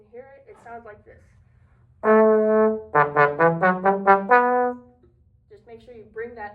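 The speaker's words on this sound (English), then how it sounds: "there is a trombone 2 and baritone part where we are the only ones playing a set of 8 notes" Trombone and baritone section of a university marching band playing a crisp eight-note passage: a sustained brass note followed by a run of short, punchy notes, loud and close, with talking faintly before and after.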